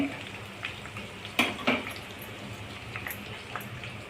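A thin nachni (finger millet) flatbread frying in oil in a pan, a quiet, steady sizzle with a couple of sharper clatters of the pan near the middle.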